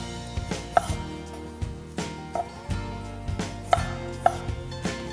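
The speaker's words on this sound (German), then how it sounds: "Dafür schnappe ich mir die Kirschtomaten und schneide sie in Scheiben." A knife slices cherry tomatoes on a cutting board, producing a series of about seven crisp, close taps at an uneven pace.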